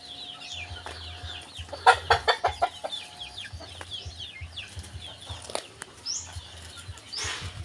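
Chickens in a backyard coop cluck and squawk in a close, busy burst, with a few louder calls bunched near the start and scattered chatter and rustling continuing throughout.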